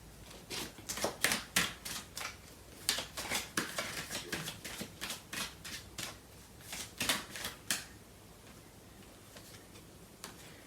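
A deck of tarot cards is shuffled and handled at close range, producing rapid bursts of crisp, riffling clicks and flicks that stop near the end, leaving quiet, with no voices.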